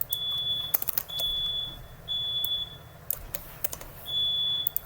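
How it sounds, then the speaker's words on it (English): A smoke alarm chirps in four evenly spaced high beeps, each lasting about half a second, with computer keyboard typing clattering in between. "there's a little alarm"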